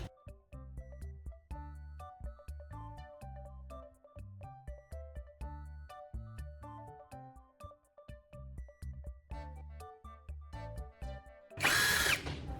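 A handmade drill brush whirs through a thick paste of liquid soap, salt and toothpaste in a small container, a loud, steady motor buzz broken by short stops and restarts, ending in a brief burst of harsher scrubbing noise.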